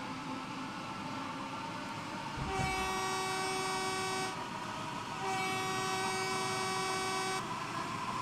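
A train horn in a train simulator game sounds two long sustained blasts at a whistle sign, each lasting around two seconds, over a steady rumble of the moving train.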